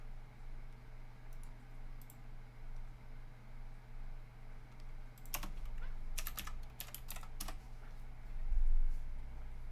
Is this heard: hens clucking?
no